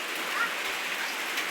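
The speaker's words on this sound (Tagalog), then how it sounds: "Malakas na talaga yung ulan." Heavy rain pours steadily outside a church as a dense, even hiss that stays constant throughout, loud and close with no distinct individual drops.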